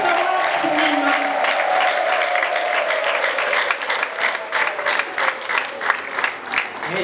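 A church congregation claps and cheers together, a dense sustained applause that breaks into rhythmic clapping near the end, with shouts and ululation mixed in from a large crowd.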